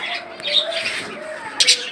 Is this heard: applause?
no